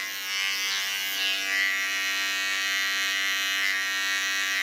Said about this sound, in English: Come once again to my small clipper.